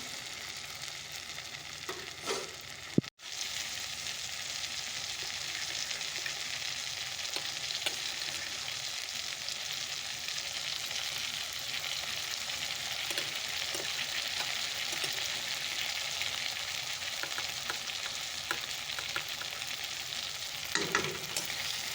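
Vegetables frying in a curry pan, a continuous even sizzle with occasional stirring clatters, close and steady with no voices.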